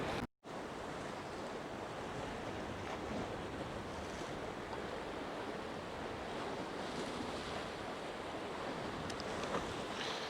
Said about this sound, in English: there's some nice waves breaking on the rocks behind